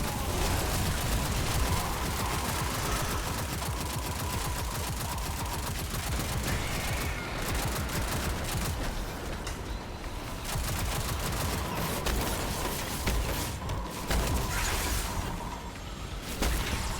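A video game turret fires continuously in dense rapid volleys, a loud, steady stream of shots with brief whooshes and crashes mixed in.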